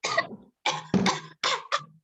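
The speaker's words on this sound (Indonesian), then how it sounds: "pura-pura lagi batuk" A woman fakes a cough during a virtual class on etiquette for visiting the sick. Four or five short, dry coughs come close to the microphone, separated by brief silences.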